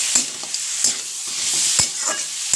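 Snake gourd sizzles steadily in a frying pan while a spoon stirs it, scraping the pan in several sharp, close strokes over the hiss.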